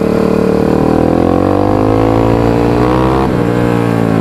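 An ATV quad engine in second gear drones loudly and steadily at low speed, and its pitch climbs gradually before easing off near the end, with no talking over it.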